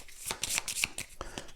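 A deck of cards from a WWI board game being shuffled by hand, a quick burst of riffling and flicking strokes, close and fairly faint.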